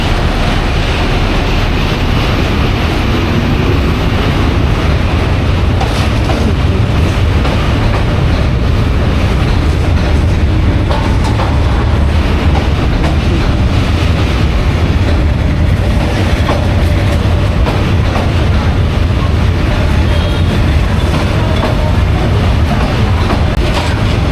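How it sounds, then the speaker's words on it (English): A train passes through central Hanoi, Vietnam, its loud continuous rumble mixed with rhythmic clickety-clack from the wheels throughout, with faint street noise behind it. "just in time, we have a train going past"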